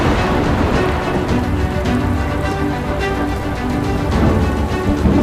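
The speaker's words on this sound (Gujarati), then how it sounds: "બપોરે 12 થી 1 શહેરના કેટલાક વિસ્તારોમાં ધોધમાર વરસાદ પડ્યો" A heavy midday downpour in Ahmedabad: a dense, steady roar of rain that stays loud and close throughout, with no voices over it.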